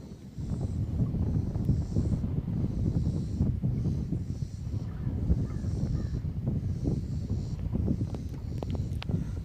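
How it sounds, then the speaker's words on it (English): Birds call along a lakeshore at Lake Eufaula, Oklahoma, with crow-like caws repeating at intervals over steady wind noise, moderately distant. "Lots of bird activity out here."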